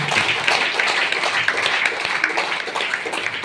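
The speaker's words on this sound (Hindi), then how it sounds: "एक जोरदार ताली बजाइए" Clapping from an audience at a DXN business meeting in Badlapur, a dense steady patter of many hands at moderate loudness lasting the whole stretch without a break.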